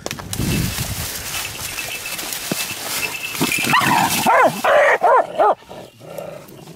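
A hunting dog barks at a swamp rabbit gone into a hole in swampy woods; after a stretch of rustling outdoor noise, a quick run of four or five sharp, close barks comes near the end.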